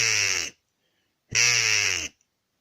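An Acme crow call blown to imitate a crow gives two loud, harsh caws up close, each about half a second long and split by a short silence, with no talking.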